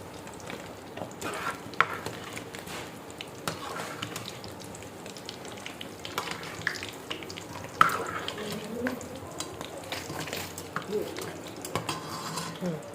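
Pangas fish, with tilapia and shrimp, frying in oil in a pan while being turned and stirred, a steady low sizzle with scattered clinks of utensil on metal, continuous throughout.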